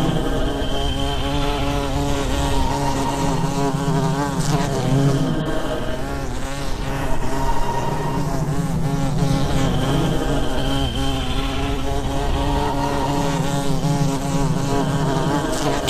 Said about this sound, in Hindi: उसी समय लाखों करोड़ों मधुमक्खियां